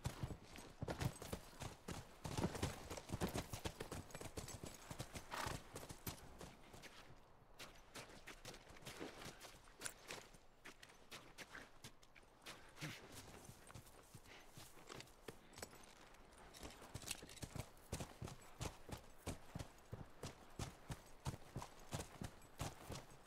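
Horse hooves clip-clopping steadily in The Last of Us video game, a dense rapid stream of hoof strikes at a quick pace, continuous and fairly close throughout, with no talk.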